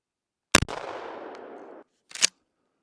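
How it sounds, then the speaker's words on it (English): A 12 gauge shotgun fires once outdoors, a sharp loud blast followed by a rolling echo that fades over about a second, then a shorter second crack or clatter. "It's a 12 shotgun, 12 gauge."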